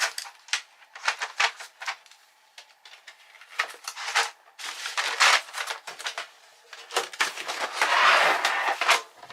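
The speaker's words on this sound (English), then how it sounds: "just need to put my pencils away." Wooden pencils clatter and rattle as they're gathered and dropped into a container, a string of sharp clicks and knocks close by, with no talking.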